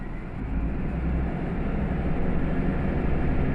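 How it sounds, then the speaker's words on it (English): A train pulling out of Nishikicho Station on the Gantoku Line in Yamaguchi, a steady close rumble with broadband mechanical roar that holds evenly throughout, with no voices. "The train departs from Nishikicho Station."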